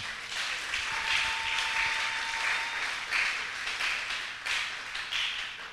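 A church congregation applauds steadily and loudly in praise of the Lord, the dense clapping holding for several seconds over a faint sustained musical tone.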